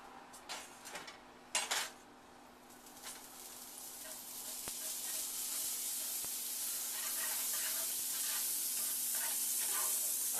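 Butter sizzles in a pan while an omelette is being made: a few close utensil clinks at the start, then a steady hiss that gradually swells louder and stays bright and continuous, with no talking.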